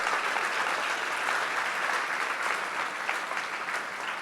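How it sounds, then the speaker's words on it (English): Steady applause from an audience at a president's speech event, a dense even wash of many hands clapping throughout, fairly close and continuous with no talk over it. "he deserves a big round of applause"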